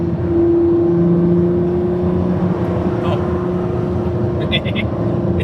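A Ford GT engine droning steadily from inside the car, its tone shifting across a quick gear shift, with people talking over it.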